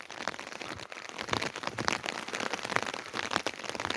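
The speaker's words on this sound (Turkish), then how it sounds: "Müthiş bir yağmur altında." Heavy autumn rain pours over a village in Çüngüş, Diyarbakır, a dense, steady hiss of drops pattering and crackling on nearby surfaces, fairly loud and without any talk.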